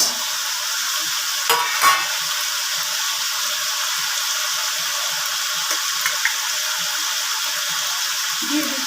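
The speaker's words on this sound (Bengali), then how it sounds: "এবার আমি বেগুনগুলো দিয়ে দিচ্ছি" Eggplant pieces drop into a pan of potatoes, beans and drumsticks frying in pickle oil for a vegetable curry. A steady sizzle runs throughout, with a brief louder burst of clatter and spitting as the pieces go in.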